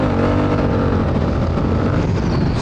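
A Honda Africa Twin adventure motorcycle runs off-road in full power mode, its engine a loud, dense, continuous roar held steady throughout with no talk over it.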